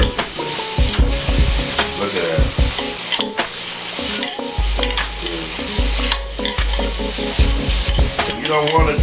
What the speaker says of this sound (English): you don't want your onions and your mushrooms cooked down too far